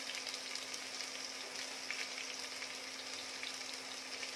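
Tomato sautéing with turmeric in a pan for Maharashtrian plain khichdi, a soft steady sizzle and crackle with faint stirring, continuous and low in level with no voices.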